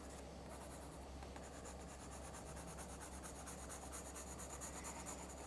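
Hard, thin graphite pencil scratching wavy lines across paper in a steady, continuous rasp, close and fairly quiet, with no talk.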